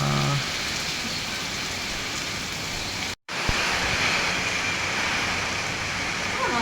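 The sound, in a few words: rain and storm wind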